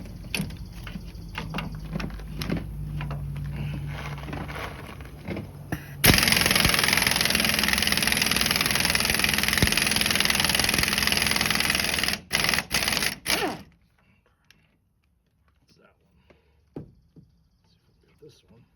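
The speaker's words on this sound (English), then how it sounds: "So now I'm going to try and use this impact on it because they're still really tight." An impact wrench hammers at tight axle bolts on a Chevy Silverado during an axle swap, a loud rattling burst lasting several seconds, ending in short stuttering pulses and then quiet, over background noise and a man's speech.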